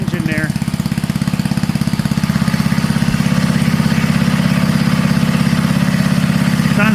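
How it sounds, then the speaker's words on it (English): An old 1960s Simplicity Wonderboy 600 lawn tractor's small engine runs close by at a steady idle, a loud, even, rapid chugging pulse with a slight rattle that continues without pause. "Sound bad for an old 50-year-old engine there."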